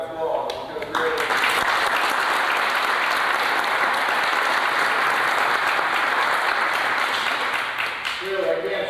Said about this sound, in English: Let's give all these gentlemen a big round of applause